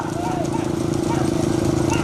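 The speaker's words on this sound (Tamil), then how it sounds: "3 மாடு உள்ள வருது" Racing bulls pull carts in a bullock cart race at Melmangalam in Pudukkottai district, Tamil Nadu, their fast, rhythmic hoofbeats drumming under loud, continuous announcer commentary.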